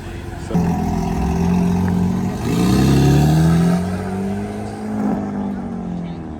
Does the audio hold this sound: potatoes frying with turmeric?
no